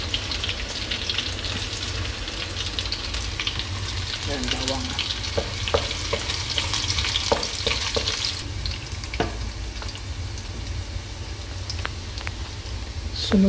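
Garlic sautéing in a hot pan for a shrimp dish with ground peanut, a steady loud sizzle with intermittent scraping stirs and utensil taps, while a voice speaks briefly over it.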